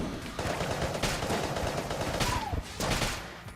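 Rapid automatic gunfire from the Gemini carbine in the video game Enter the Gungeon, a dense burst of shots that stops briefly twice and picks up again.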